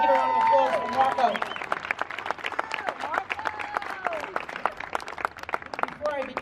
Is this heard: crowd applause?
yes